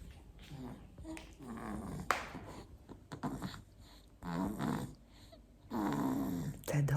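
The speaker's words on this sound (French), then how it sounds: "Est-ce que vous entendez mon petit bonhomme ronfler?" A small pet snores softly while asleep indoors, slow breathy snores rising and falling, with someone speaking quietly in French over and between them.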